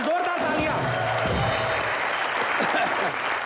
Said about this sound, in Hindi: फवाद और सोनम के लिए जोरदार तालियां